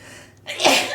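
A single sharp sneeze bursts out close to the microphone after a short quiet moment, loud and breathy.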